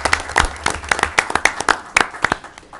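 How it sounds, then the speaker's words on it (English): A round of applause at a city council meeting, steady uneven clapping from a roomful of people filling the short stretch and tapering slightly toward the end. "Can we do a round of applause, please?"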